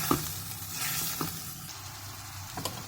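Chicken liver and gizzards sizzling in a hot pan while being stirred, a constant soft crackle broken by a few scraping stir strokes, close by and without talk.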